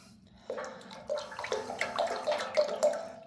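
A spoon is swished and rinsed in a container of water, making soft splashes and gurgles in a quiet, uneven rhythm, fairly faint and with no talking.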